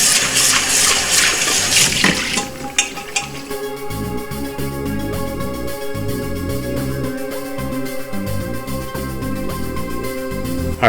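Tap water runs steadily as an Instant Pot is rinsed, a loud splashing gush that shifts tone early on and then settles into a continuous close-up flow with no talking.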